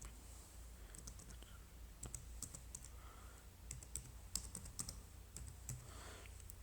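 Quiet, close keystrokes on a computer keyboard as an email address is typed in, light clicks arriving in short uneven bursts with brief pauses between.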